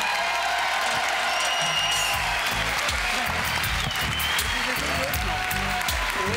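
A large crowd applauds loudly and steadily to welcome two performers onstage, dense clapping mixed with cheers and whoops, under a voice talking throughout.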